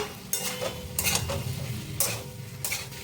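Vegetables for a Bengali winter veg curry are stirred in a pan, with several separate bursts of spoon-scraping and scraping against the pan about a second apart over a low background hum.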